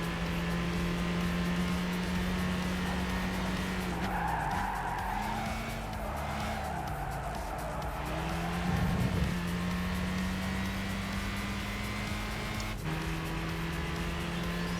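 A Toyota Yaris race car in Gran Turismo 5 holds a steady, droning engine note throughout, dipping and rising with gear changes alongside brief tire squeal and other cars passing, with no voices.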